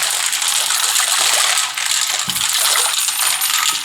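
Cold water pours steadily over dried fava beans in a bowl, a continuous close gush and splash that dips briefly midway before resuming, with no talking.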